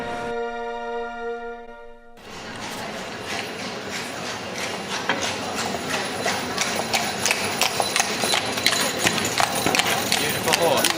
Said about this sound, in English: Beautiful horse.